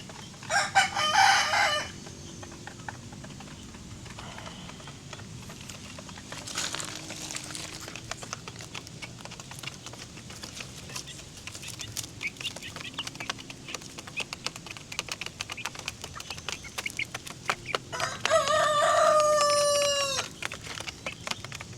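Pet chickens in the Philippines cluck and chatter at feeding time, with a rooster's loud, drawn-out crow rising near the end; scattered pecking and clicking sounds fill the gaps between calls.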